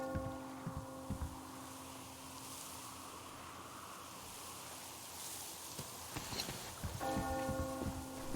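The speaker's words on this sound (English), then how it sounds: "Do you hear that bell?" Bell tolling in the Metro Exodus video game: several resonant metallic strikes at the start and again near the end, under a steady hiss of rain or ambient noise, with no voices.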